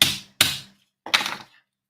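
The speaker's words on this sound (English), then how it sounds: "Take the hammer, smack it a couple of times." A hammer strikes a wooden part of a Calella Bot de Llum model ship kit, three sharp taps, the last slightly rougher, close and clear with no speech.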